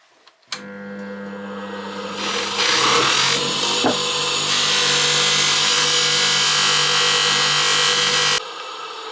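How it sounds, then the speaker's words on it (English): A motor spins up and a Moore and Wright metric micrometer is pressed to a buffing wheel, making a loud, steady whirring rub that stops abruptly, with no talk. "The bright parts of the nasty Moore and Wright metric micrometer, I'm just going to polish up on the buffing wheel."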